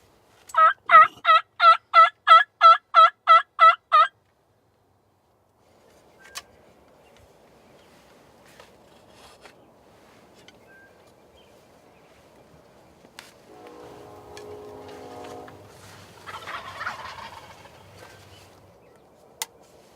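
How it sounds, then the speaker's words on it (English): Wild turkey toms gobble in a rapid rolling series at close range, then quiet field sounds follow: faint rustling, a low steady murmur and scattered soft movement noises. "We've been hearing about tons of toms out here."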